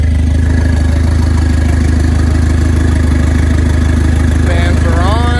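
A Starquest car engine runs at a steady idle with its cooling fans on, a loud, even, close drone throughout, with a faint voice near the end.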